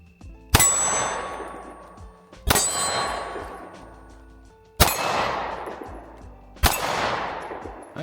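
Four loud pistol shots, each answered by a ringing metallic clang from a steel target, the shots spaced about two seconds apart with bright rings decaying between them, no talking.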